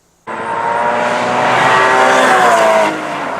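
Porsche Cayman GT4 sports car driven hard, its engine bursting in loud and close, then holding a strong rising roar for several seconds before easing slightly.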